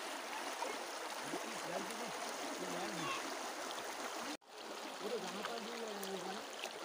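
Steady rushing of flowing river water fills the scene, a constant broad wash with faint gurgles, briefly cut by a short dropout midway.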